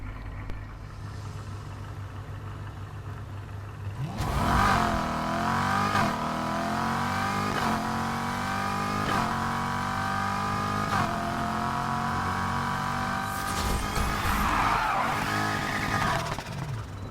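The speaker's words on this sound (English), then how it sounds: "I want to show you the no pop version on the Ford GT now" A Ford GT in the racing game NFS Heat makes a drag launch without a pop: the engine idles low, then revs hard and accelerates through several upshifts, each followed by a climbing engine whine, loud and close throughout.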